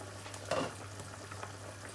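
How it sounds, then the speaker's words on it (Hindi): Water at a full boil in a covered cooking pot before rice goes in: a faint, continuous bubbling hiss with one brief louder clatter early on. "इसमें अच्छे तरीके से उबाल आ गया।"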